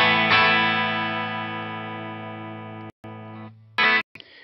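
An electric guitar runs through a HeadRush Gigboard amp model with a B30 cabinet, playing a sustained distorted chord that rings for about three seconds, stops, rings again, then ends in a short loud burst and a few scrapes.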